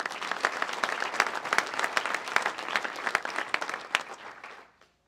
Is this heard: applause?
yes